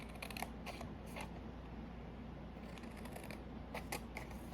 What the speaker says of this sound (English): I'm going to go ahead from the bottom and cut up to that 1-inch score line.